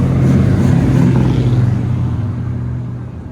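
A 1989 Chevy Suburban with a 5.7L V8 and a Flowmaster 40 Series exhaust rumbles deep and loud nearby, holding a steady throaty drone that slowly eases off as it moves away.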